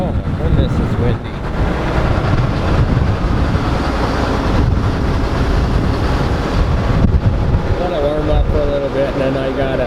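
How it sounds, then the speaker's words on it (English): Strong, cold south wind roars across a soybean field beside a running John Deere 9750 STS combine from 2001, a steady loud rushing with mic buffeting that barely lets up. "Oh my goodness, it's windy."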